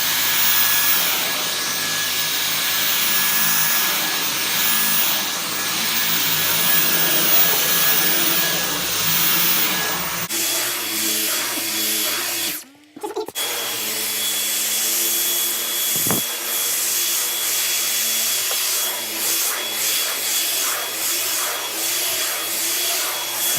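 A Dyson V10 cordless vacuum cleaner runs steadily and loudly up close, its motor whine holding level throughout apart from a brief dip midway, with no talking.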